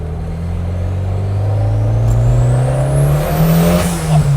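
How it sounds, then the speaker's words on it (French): A turbocharged car climbs a hill in fourth gear, its engine droning loudly and steadily with a rising turbo whistle and whoosh building through the run, close and without speech. "bruit du turbo, sympa"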